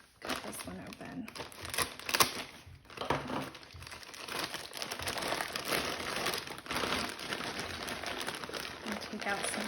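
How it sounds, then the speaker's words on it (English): Crinkly plastic packaging of a jigsaw puzzle rustles and crackles continuously as it is cut open up close, with scattered sharper snaps and crumples. "I think I need to cut this one open."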